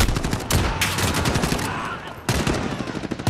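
Gunfire in Call of Duty: Modern Warfare, a loud, dense stretch of rapid shots and booming blasts with a brief lull in the middle before firing resumes.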